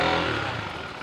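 A KTM motorcycle's engine runs with a steady, close, broadband growl and a low harmonic rumble, slightly easing toward the end of the brief stretch, with no talking.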